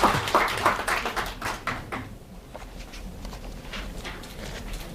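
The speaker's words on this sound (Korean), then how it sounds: "박수 부탁드립니다" An audience at a Korean-language discussion meeting applauds with a burst of clapping that starts loud and fades to scattered claps within a few seconds.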